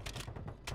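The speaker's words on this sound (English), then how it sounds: "Shooting. Oh, Striker 9 go crazy." Striker 9 gunfire in Warzone 3, a rapid burst of roughly six or seven close shots in quick, even succession, fairly faint and very brief.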